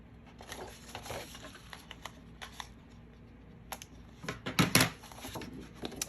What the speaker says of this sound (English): I'm just going to take my scissors and trim that